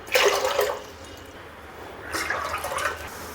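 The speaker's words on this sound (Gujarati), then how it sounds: "તો અહીંયા મેં 7 ગણું પાણી કુકરમાં ઉમેરી દીધું છે" Water poured into a pressure cooker for making rice papad, two short splashing pours separated by a brief pause, close and clear with no talk.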